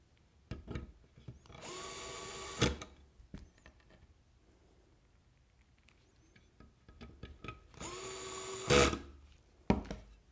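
Power screwdriver drives Phillips screws while a smart module is installed: two close, sustained whirring bursts with a rising pitch that end abruptly, separated by quiet clicks and handling noises.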